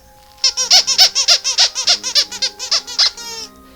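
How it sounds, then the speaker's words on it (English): A squeaky pet toy is squeezed rapidly over and over, giving about fifteen loud, high, rubbery squeaks in a quick, bouncy rhythm that then stops. "I'm gonna squeak her toy."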